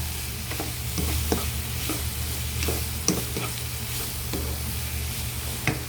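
Menudo in sauce being stirred in a pan: a steady sizzle with a low hum underneath and periodic scrapes and taps of a spoon, close and moderately loud.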